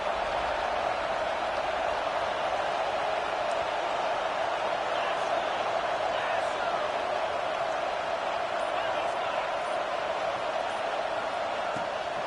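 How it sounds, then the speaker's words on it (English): Steady wash of stadium crowd noise from a football video game, a broad continuous roar that holds at an even level throughout with no clear peaks, with commentary-like voices faintly mixed in. "This crowd knows when to bring it."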